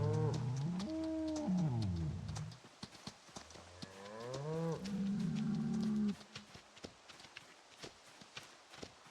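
Cows in a video game pasture moo in long, drawn-out calls, two or three in a row, followed by scattered hoof clops and footsteps with no voices.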